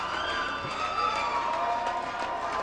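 Wrestling crowd at a TNA Xplosion event cheering in a steady, dense wash of noise with shrill whistles and whoops on top, continuous and fairly loud throughout.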